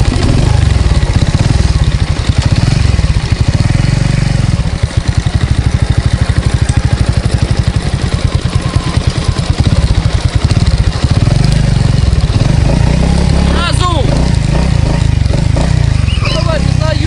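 Sport motorcycle engine running at idle while riding slowly, a steady low rumbling drone throughout, close and loud, with voices talking over it.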